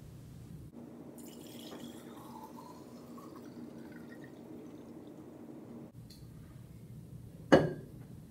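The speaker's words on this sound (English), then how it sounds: "I'm going to take this glass jar and fill it up with water" Water pours quietly and steadily into a glass jar for several seconds, stops, and a single sharp glassy clink follows near the end.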